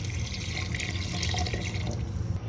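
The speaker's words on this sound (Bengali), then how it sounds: "এবার দিয়ে দেবো পানি।" Water poured into a cooking pot of chicken and chana dal for bhuna khichuri, a steady close splashing trickle lasting a couple of seconds, with no talk.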